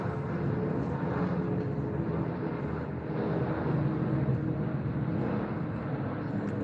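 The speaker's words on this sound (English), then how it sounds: "There's another plane coming. Sounds like a big plane to me." A British Airways Boeing 777 passes overhead in London with a steady, broad engine roar that swells slightly midway and carries through wind noise, no voices.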